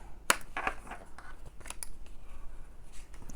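Scissors snip through thick backed paper while trimming a journal card: a few short, close snips under the first two seconds, followed by quieter handling noise.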